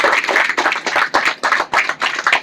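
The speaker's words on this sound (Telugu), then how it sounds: "మనం గట్టిగా చప్పట్లతో అభినందనలు తెలియజేద్దాం" Hands clap close by in a fast, steady rhythm of sharp claps, a brief round of congratulation at a gathering.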